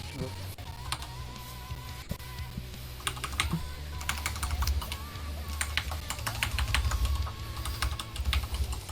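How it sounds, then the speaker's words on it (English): Rapid computer keyboard typing with bursts of clicky keystrokes over a steady background of game sound, continuous and fairly close throughout. "listen to that keyboard"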